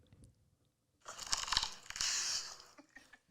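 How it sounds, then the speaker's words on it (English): Crunch of someone biting into freshly toasted bread, a loud crisp burst of crackling chews close to the mic after a brief quiet start, fading into a few softer crumbly bites. "Listen to the crunch this bread makes."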